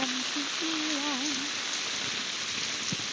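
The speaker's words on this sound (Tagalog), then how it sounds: "Lakas ng ulan, guys." Heavy rain pours steadily on surfaces outdoors in Singapore, a dense continuous hiss filling the clip with a brief high voice-like tone near the start.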